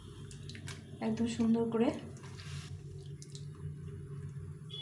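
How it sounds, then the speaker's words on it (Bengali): Stale rotis swished and squished by hand in a bowl of hot water, giving soft splashes and drips, with someone speaking over it at close range. "গরম জলের মধ্যে রুটিগুলো একটু ভালো করে ধুয়ে নেব"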